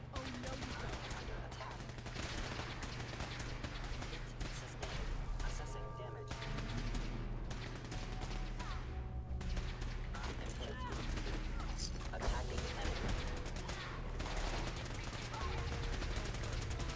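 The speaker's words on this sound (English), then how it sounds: "Wow, listen to this gunfire out there." Sustained gunfire and rattling machine-gun bursts in the video game Fallout 4, heard at a distance as a dense, continuous barrage with occasional louder shots, under a quiet voice.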